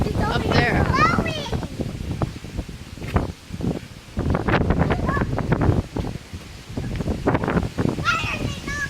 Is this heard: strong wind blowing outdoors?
yes